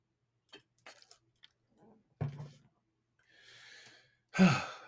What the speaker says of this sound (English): Let me sip my water real quick.